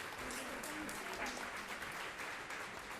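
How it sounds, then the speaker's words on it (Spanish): Audience at a book presentation applauding, a steady, fairly soft patter of many hands clapping for a few seconds, with faint voices underneath. "La vamos a aplaudir."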